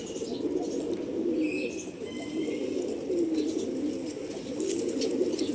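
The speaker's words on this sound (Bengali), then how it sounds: "এটা নতুন পাঠা কবুতর" Newly acquired male racing pigeons coo together in a thick, unbroken murmur, many birds close by, with a few faint chirps over the steady drone.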